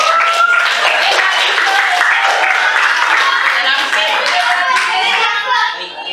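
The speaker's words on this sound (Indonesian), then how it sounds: "Beri tepuk tangan dulu untuk kita semua." Pupils in an Indonesian school classroom clap their hands together in loud, lively applause near the end of a lesson, with children's voices mixed in before the clapping fades.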